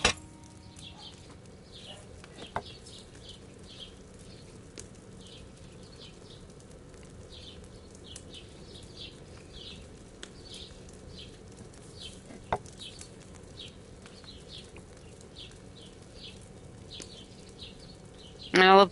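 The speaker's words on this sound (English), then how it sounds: "I love the birds chirping." Birds chirping in the medieval open-world game Kingdom Come Deliverance 2, repeated short high chirps in regular bursts across the ambience, fairly faint over a low steady background hum.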